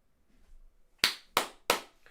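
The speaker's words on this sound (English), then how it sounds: "And now you can hear my claps, it doesn't just echo it out." Three sharp hand claps by a streamer at home during a Scotland vs Georgia football watch-along, evenly spaced and close, crisp with short decay, following a faint quiet stretch.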